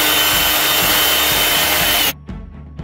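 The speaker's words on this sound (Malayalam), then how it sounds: "അത് കഴിഞ്ഞിട്ട് പകുതി ഇട്ടിട്ടൊന്ന് ബീറ്റ് ചെയ്യാം." An electric beater whirs while creaming butter and brown sugar for a Christmas plum cake: a loud, steady, high-pitched motor whine lasting about two seconds before cutting off sharply, followed by a few faint clicks and bumps.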